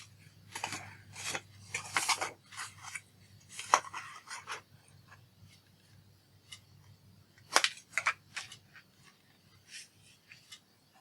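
Irregular sharp snips and short rustling cuts sound close by while the corners of a journal cover are mitered, coming in clustered bursts separated by quiet gaps.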